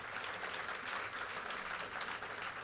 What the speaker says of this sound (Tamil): ஒரு அரங்கு நிறைந்த கைத்தட்டு கொடுக்கணும்